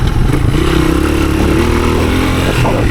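A 1983 Honda XR200R dirt bike rides through the woods, its small engine droning steadily with a buzzing, slightly uneven note and mechanical clatter, loud and close throughout.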